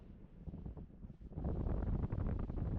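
Strong wind gusting across an exposed mountainside, a steady low roar buffeting the microphone that swells louder and denser partway through and stays forceful to the end.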